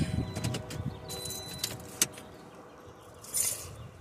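Keys jangle in short, close bursts inside a car near a Norfolk Southern rail line, faint and brief with quiet gaps between.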